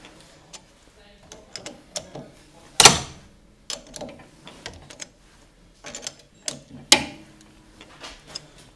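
A metal lathe turned over backwards along a freshly cut thread gives soft mechanical clicks and ticks in an irregular rhythm, with two sharper clanks standing out. It is close and fairly quiet, with some speech in between.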